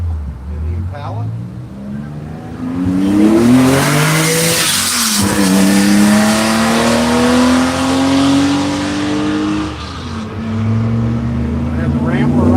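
Race cars, a Porsche and an Impala, lapping VIR at the One Lap of America event, loud engines rising and falling as they pass near with gear-shift drops and some tire noise, a commentator talking over them.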